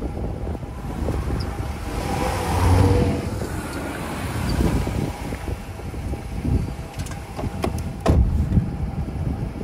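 A Jeep Gladiator fitted with air suspension drives along a road, giving a steady engine and tire rumble with wind buffeting and road noise throughout.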